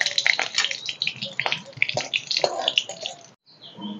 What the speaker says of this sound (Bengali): তেলের মধ্যে দিয়ে দিব কালো জিরা সম্বারে, দেব দুটো শুকনো লঙ্কা